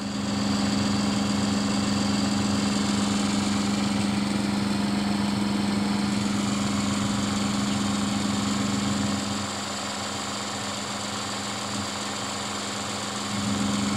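A small 12 volt brushless water pump, running underpowered on about 8 volts, hums in a steady, continuous drone with a faint whine, level throughout and alone, dropping slightly in loudness near the end.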